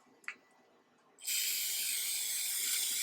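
Berryman brake cleaner sprays in one sustained, loud hissing burst after a second of near-quiet with a small click, the close aerosol jet continuing steadily to the end.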